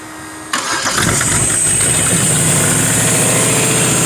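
A 43-year-old truck's 305 fuel-injected V8 fires up after a brief quiet lead-in, then settles into a loud, steady, close rumbling idle that carries on to the end without talk.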